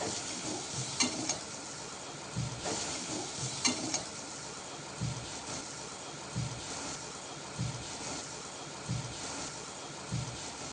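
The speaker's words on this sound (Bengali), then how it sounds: "উল্টে পাল্টে ভেজে নিয়ে মাছগুলো নামিয়ে নেব।" Prawns fry in mustard oil in a wok with a continuous loud sizzle, while a spatula scrapes and turns them at a steady rhythm of soft knocks every second or so.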